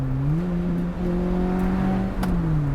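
A Lotus Elise engine revs steadily while driving, its buzzy, droning note held at high RPM with slight pitch rises and dips, loud and close, with a couple of brief shift-like dips.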